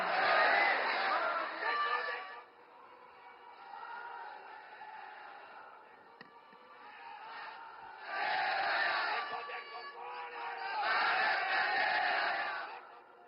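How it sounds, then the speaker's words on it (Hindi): A large crowd at a rally in Somnath for Prime Minister Modi swells in waves of loud cheering and chanting, three strong surges separated by quieter murmuring stretches, heard from a distance across a big open gathering. "आइए जोरदार तालियों के साथ आमंत्रित करते हैं अपने बहुमूल्य मार्गदर्शन के लिए"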